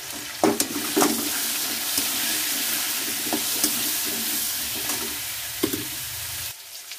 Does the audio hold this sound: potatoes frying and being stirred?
yes